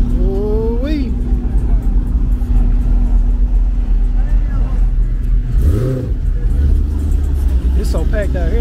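A Dodge Hellcat engine revving at a Memphis street block party, a deep loud roar that holds steady while other engines rev and rise around it, with crowd chatter and voices throughout.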